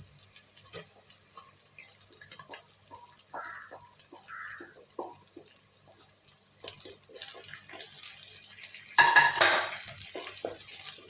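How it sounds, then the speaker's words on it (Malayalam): Sliced onions with ginger and garlic fry in a pan for a Kerala-style shark curry, giving a soft steady sizzle with light stirring scrapes and a brief louder hiss near the end. "സവോള ചേർത്ത് കൊടുക്കുകയാണ്."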